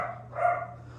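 An excited dog gives one short bark in the background of an indoor room, mid-level and brief over a steady low hum.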